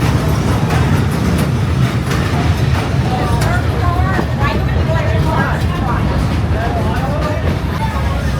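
Steady rumble and clatter of a Great Smoky Mountain Railroad passenger train riding along a lakeside track, heard continuously from aboard with faint rhythmic wheel clicks and no talk.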